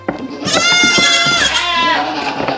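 A Nigerian Dwarf goat bleats during milking, one long, loud, wavering cry close by with a few clattering knocks around it.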